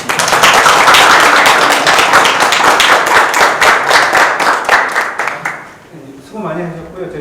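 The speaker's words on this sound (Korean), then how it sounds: "서로 격려와 지지에 의해서 박수로 마무리하겠습니다" Closing applause at a Jeju policy forum on protecting Indo-Pacific bottlenose dolphins, a loud, continuous burst of many people clapping in a room that fades out after about six seconds, followed by a speaking voice.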